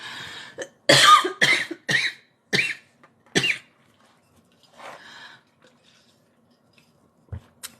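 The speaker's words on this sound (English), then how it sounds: "I'm trying not to cough like right into the mic." A fit of harsh coughs, about six bursts in quick succession, close and loud, followed by quieter breathing and a soft cough at the end.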